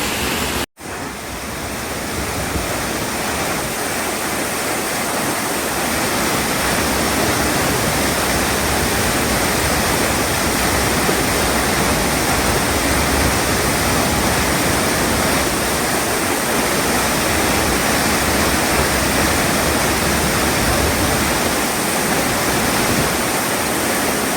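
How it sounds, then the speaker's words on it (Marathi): Gunehr waterfall pouring glacier water, a dense, loud, continuous roar of rushing water close by with no talking. "फ्लो बघा, आणि पाणी एवढं थंड आहे ना, ग्लेशियर वॉटर."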